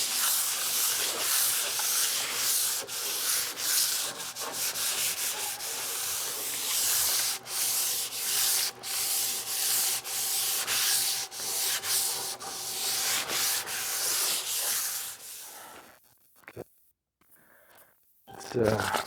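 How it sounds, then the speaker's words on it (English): Hand sanding with 220-grit sandpaper on a live edge wood bar top between finish coats makes a continuous scratchy rubbing of rhythmic strokes for about fifteen seconds, then fades to quiet handling. "Go right to the regular old 220 sandpaper here."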